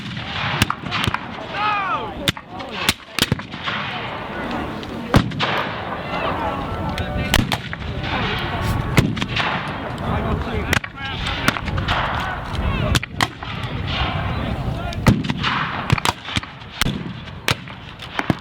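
Cannon and rifle fire ring out at an American Civil War battle reenactment, with sharp irregular volleys and heavy booms cracking across an open field, loud and repeated under continuous voices speaking throughout.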